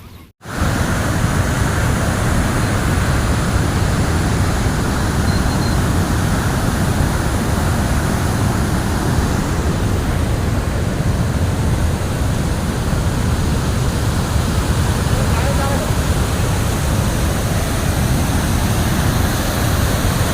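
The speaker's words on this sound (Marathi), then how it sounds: "काय भयानक पाणी दादा." The swollen Mhalungi river in flood rushes with a loud, steady, unbroken roar of churning water that fills the whole span without pause.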